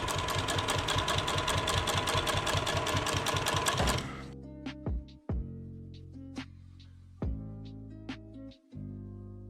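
Sewing machine stitching leather for a custom Air Jordan 1 sneaker: a fast, steady needle chatter runs loud for about four seconds, then stops, followed by several short stitch bursts and small clicks with pauses between.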